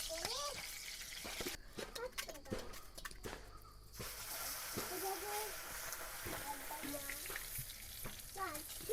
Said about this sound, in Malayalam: ഉലുവയൊന്ന് വറുത്തെടുക്കട്ടെ.